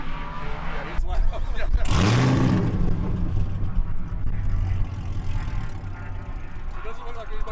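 A loud Camaro ZL1 1LE race car engine, running about 110 decibels on a track, roars past with a rising, rasping whine, then its drone lingers over steady background rumble.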